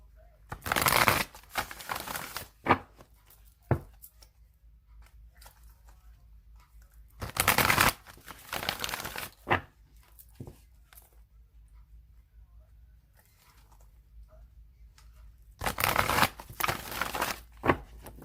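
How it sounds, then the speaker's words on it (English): Tarot deck shuffled in several loud bursts of riffling card noise, separated by quieter stretches with faint handling sounds, over a soft background. "I'm going to shuffle it 3 more times."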